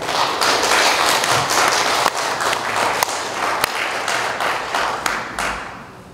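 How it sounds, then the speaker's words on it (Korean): Steady crowd applause fills the room as a pastor is welcomed to the stage at a summer ministers' spiritual retreat, dense clapping holding at an even level for about six seconds with a few sharper claps standing out. "우리 최정규 목사님 단상으로 모실 때에 크게 박수로 환영해 주시기 바랍니다."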